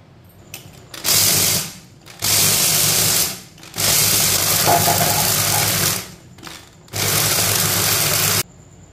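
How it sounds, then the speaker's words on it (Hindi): A kitchen grinder blends recipe ingredients in loud motorized bursts, four long whirring runs of a second or more separated by short pauses and faint clicks, close and steady. "अब इसे हम अच्छी तरह ग्राइंड कर लेते हैं"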